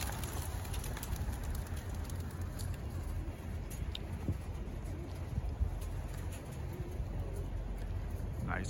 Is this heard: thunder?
no